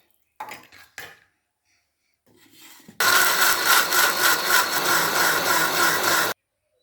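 A few clatters and a soft rattle, then a mixer grinder roars loudly and steadily for about three seconds, coarsely grinding chutney, before cutting off abruptly.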